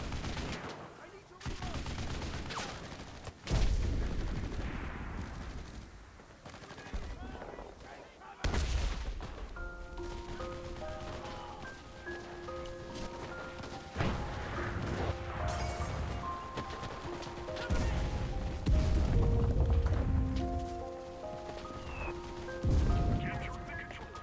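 Artillery high-explosive and smoke rounds land in a co-op war video game, a run of heavy booming impacts and crackling blasts spread over time, with music-like tones and a voice talking over the barrage.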